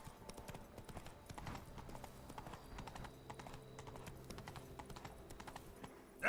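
Roach the horse gallops in The Witcher 3, quick rhythmic clip-clop hoofbeats running steadily and fairly close, with faint game sounds underneath.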